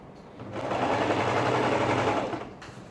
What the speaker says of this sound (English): So just trying to arrange my collar well, and just keep sewing.